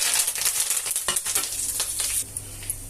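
Tempering of ginger, chana dal and green chillies sizzling in hot oil in a pan for milk upma, a loud, crackling fry with stirring scrapes that settles quieter toward the end.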